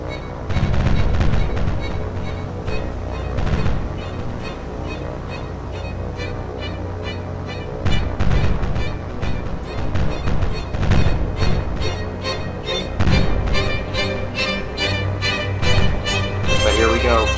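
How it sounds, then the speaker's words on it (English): Japanese warships fire anti-aircraft flak in the naval game War on the Sea, a dense run of booming and popping bursts at varying distance over a continuous background rumble, with a voice talking during parts of it. "they're shooting flak into the sky trying to shoot us down"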